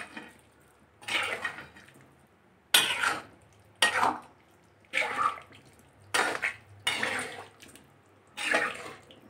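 Beef being stirred into a masala gravy in a pot, giving a series of wet, sloshing scrapes in short repeated bursts about every second, fairly close, with no talking.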